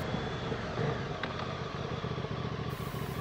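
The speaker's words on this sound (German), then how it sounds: "Der Motor läuft nicht so ruhig" A QJ SRV 550 motorcycle engine runs steadily close by, a continuous rough, rattling rumble with no voices.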